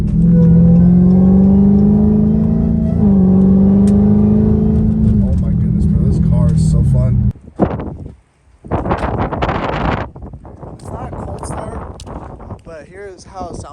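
A stock Dodge Hellcat Redeye engine running after warm-up gives a loud, steady, deep rumble at close range for about seven seconds, then the sound breaks into gusty wind buffeting and rustling.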